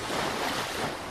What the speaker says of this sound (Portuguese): e as ondas vão ficando mais